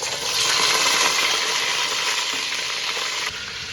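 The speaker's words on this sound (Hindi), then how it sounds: "जिस ऑयल में मैंने प्याज, टमाटर सारा कुछ डाल के तो फ्राई किया है उसी में मैं चिकन डाल दूँगी।" Chicken goes into hot oil already frying with onions and tomatoes for a biryani, raising a loud, steady, close sizzle that holds without a break.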